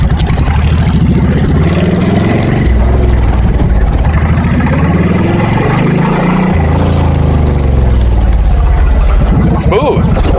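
A Suzuki C90 Boulevard cruiser motorcycle engine runs steadily with a deep, loud low rumble, close to the microphone and steady throughout, with a brief higher mechanical sound near the end.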